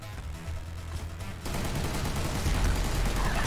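Gunfire from enemies in the Furry Apocalypse demo, a dense run of shots that swells louder halfway through and keeps going as a steady, crowded barrage.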